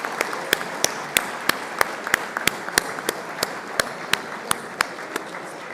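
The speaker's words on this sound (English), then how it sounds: "Give a round of applause to all the girls who made it here." An audience at the opening ceremony of a programming contest applauds, with a continuous soft bed of clapping and regularly spaced louder claps, moderately quiet and free of talk.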